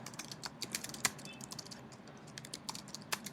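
Rapid typing on a computer keyboard while entering data into a spreadsheet, a fast, uneven run of light clicks and keystrokes close by, with no talking.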